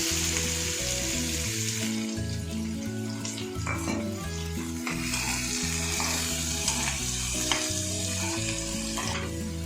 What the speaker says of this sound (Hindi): मैं मसाला फ्राई कर रही हूँ। सबसे पहले मैं प्याज डाल देती हूँ